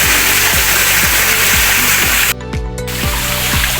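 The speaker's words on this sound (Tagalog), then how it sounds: "Pwedeng hinaan natin yung bagsak ng tubig, yung falls." Water pours steadily from a garden pond waterfall, a loud constant rush close by, with a faint regular ticking running underneath throughout.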